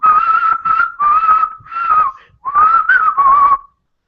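A person whistles a melodic tune in several clear, sustained phrases with brief pauses between them, close and loud with no talking.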